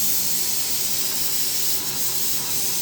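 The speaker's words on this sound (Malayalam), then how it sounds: "അങ്ങനെ തന്നെ കുക്കറിന് വിസിലടിക്കാൻ പോവാണ്." Steady, loud high-pitched hiss of escaping steam fills the whole stretch without a break, like a pressure cooker venting.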